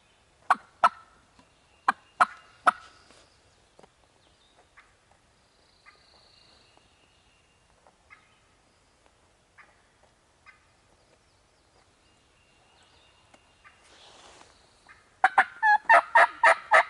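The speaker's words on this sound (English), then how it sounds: "Can you hear the turkey gobbling over here?" A wild turkey gobbles in a rural spot near a barn, with several sharp calls early on, a quiet stretch of faint distant calls, and then a loud, close burst of rapid gobbling at the end.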